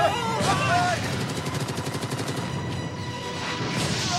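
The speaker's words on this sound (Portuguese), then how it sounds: "Ai, estão atirando!" Gunfire in a dubbed comedy film, rapid bursts of automatic shots rattling under excited shouting voices and background music.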